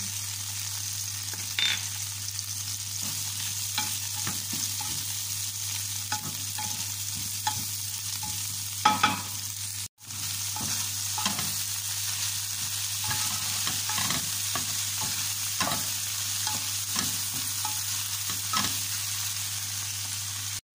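Onion and garlic fry in a pan, giving a steady close sizzle with soft scraping stir strokes throughout, and a brief break partway.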